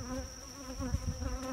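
Honey bees buzz steadily around an open hive during an inspection, a close, continuous droning hum with no talk over it.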